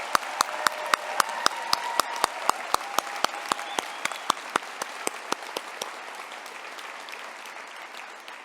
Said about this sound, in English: Let's give one more round of applause to the class of 2022.